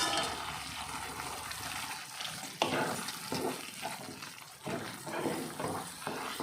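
Fried squid stirred into Padang sauce with sliced spring onion in a pan, a steady broadband sizzle broken by a few scraping stirs and soft clatters, close up with no talking.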